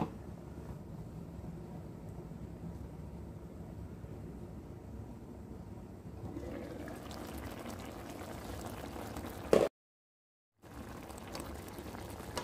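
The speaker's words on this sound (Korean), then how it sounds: "이렇게 잘 끓고 있을 때 제가 잠시 뚜껑을 닫아 두겠습니다." A zucchini and perilla seed stew bubbles in a pot with a low, steady simmer that gets a bit livelier, then a sharp knock near the end before a short silence.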